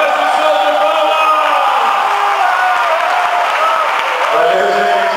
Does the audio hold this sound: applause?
yes